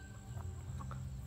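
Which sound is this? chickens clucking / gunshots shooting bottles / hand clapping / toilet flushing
chickens clucking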